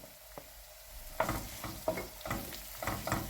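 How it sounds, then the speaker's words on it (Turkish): Tomato and pepper paste sizzles quietly in a pan while a spoon stirs and scrapes it in several distinct strokes, the frying hiss rising with each stir. "Biraz daha kavuralım"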